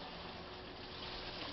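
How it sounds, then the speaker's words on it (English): A powerful waterfall pump moves water through a big lily pond, a steady, dense rush of gushing water, loud and unbroken throughout with no talk. "That's a pretty powerful pump, eh?"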